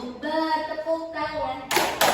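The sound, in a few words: hands clapping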